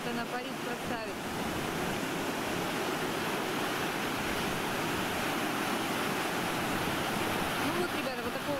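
Waves of the Azov Sea washing onto a sandy beach along the coast, heard as a steady, continuous roar of surf with no clear individual breaks, close and fairly loud throughout.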